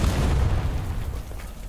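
Bombs explode in a video game, a dense, rumbling low boom that fills the short moment and fades slightly toward the end.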